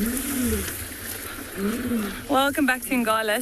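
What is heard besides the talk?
lions roaring in the background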